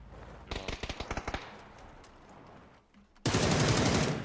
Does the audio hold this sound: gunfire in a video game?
yes